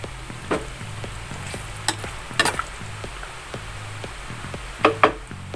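Beef cubes for beef caldereta sizzling in a hot pan, a steady low frying hiss broken by a few sharp clatters of a utensil against the pan; no one speaks.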